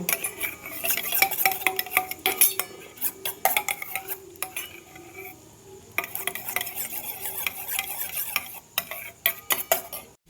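Spoon clinking and scraping in a bowl while a spice mix is stirred with tomato sauce and soy sauce, steady close-up stirring with brief pauses, no talking.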